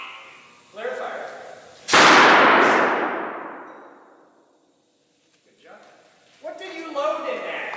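A high-voltage capacitor bank dumps 1,800 volts at 80,000 amps through a bit of copper wire, giving one sudden sharp bang that rings and decays over a couple of seconds. People talk before and after it.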